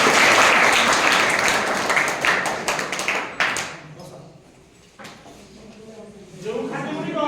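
An audience claps loudly and densely, then the applause thins out and fades. A voice starts talking near the end.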